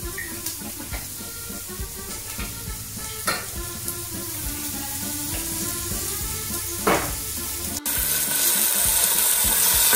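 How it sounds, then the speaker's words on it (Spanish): Onions and garlic frying in olive oil, a continuous close crackling sizzle with occasional stirring clicks, growing brighter and louder in the final seconds. "Para esto freímos cebollas y ajos."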